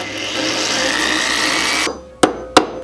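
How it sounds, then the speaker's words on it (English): A screw extractor bit grinds steadily against a stuck bolt in a Jeep windshield hinge for about two seconds, then stops, followed by two sharp metallic clanks, close and fairly loud. "with the screw extractor, we finally got that last bolt out"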